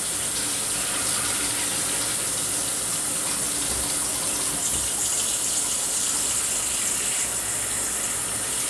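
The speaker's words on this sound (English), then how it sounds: "And then I'm going to add water," Cold tap water gushes steadily into a cooking pot on a stove while a sorrel drink is being made, a continuous close splashing pour with no talk.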